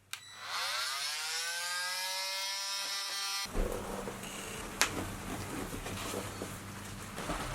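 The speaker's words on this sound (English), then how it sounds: "we're just gonna use it to cut a little piece out of the floor here" A compact M12 power tool spins up with a rising whine, then cuts a small hole through the flat metal floor of a Promaster van, a harsh grinding rasp with scattered clanks, close and loud.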